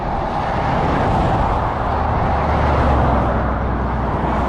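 Loud, steady roadway rumble of passing cars and trucks on a bumpy, coarse road surface beside a wide shoulder, heard up close with continuous low tire and engine noise and no talking.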